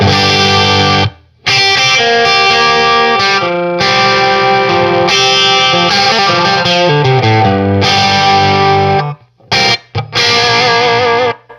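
Dry electric guitar signal through a rig with an Analog Alien Rumble Seat pedal, loud and close, with chords and single notes ringing in long phrases broken by a few brief pauses.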